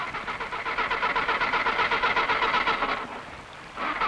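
A stalling tractor engine chugging in a steady rapid rhythm, loud and close, then dropping briefly before picking up again.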